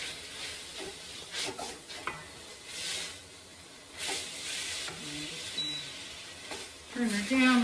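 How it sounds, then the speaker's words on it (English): Beef mince for beefaroni fries in a pot with a soft, continuous sizzle. Occasional stirring scrapes and clinks of a utensil against the pot come through now and then, and a person speaks quietly at moments. "That's frying up quite nicely."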